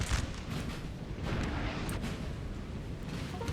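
French artillery guns fire on British militia during a Napoleonic battle at Quatre Bras (1815) in a Total War game, a dense continuous rumble of distant cannon booms overlapping into a steady roar with a few sharper reports.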